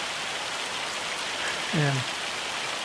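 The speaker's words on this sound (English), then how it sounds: "it's hailing again. We get quite the destructive weather here." Hail falls steadily in Farming Simulator 25 on a farm set in Kinlaig, Scotland, a dense, even hiss of pattering stones; a brief tonal chirp rises over it midway while a voice says a single word.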